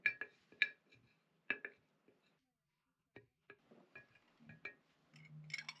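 A spoon mixes white flour and warm water in a one-liter glass jar, making sporadic sharp clinks and scrapes against the glass separated by quiet gaps, faint and close, ending in a softer rubbing stir.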